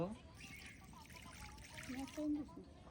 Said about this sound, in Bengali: এখন অল্প পরিমাণে হচ্ছে পানি দিব।